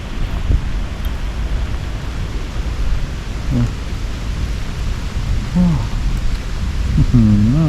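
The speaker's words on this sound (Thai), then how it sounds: "ตอนนี้ฝนตก" Steady rain falls through rainy-season forest at Phu Hin Chom That on Phu Phan Noi, Thailand, a dense, even hiss throughout, with a voice briefly heard near the end.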